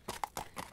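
Amish horse and buggy on a road, a few quick hoof clip-clops in an even trotting rhythm, faint and distant.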